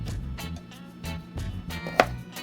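Knife slicing peeled carrots at a slant on a cutting board, a steady run of evenly spaced, close chopping strokes with one sharper knock near the end.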